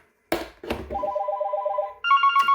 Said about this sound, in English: So we're going to simulate an incoming call here.